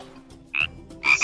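Two loud, close frog croaks, a brief burst and then a longer rasping call, with quiet background between them.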